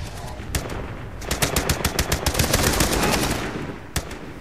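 Rapid bursts of automatic gunfire from the video game Beyond Two Souls, a fast rattling volley of loud shots after a single opening crack, ending with one last isolated shot.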